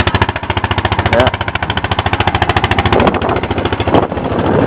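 A Honda Foreman 450ES ATV engine runs loudly and close, rapid rhythmic pulsing chugs with brief rises in revving.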